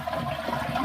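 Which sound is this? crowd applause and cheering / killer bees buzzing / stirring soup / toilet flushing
toilet flushing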